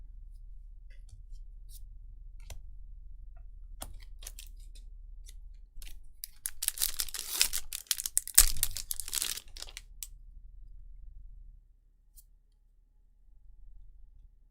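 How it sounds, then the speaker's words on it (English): An empty plastic water bottle crinkles beside a computer keyboard, giving a cluster of faint irregular crackles and ticks that thicken briefly in the middle, close and quiet with no talking. "The empty water bottle was too close to the keyboard. It was making weird noises."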